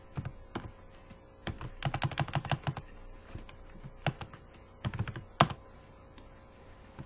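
Keys clacking on a computer keyboard while C++ code is typed, in irregular bursts of quick strokes with short pauses between, close and moderately loud, no voices.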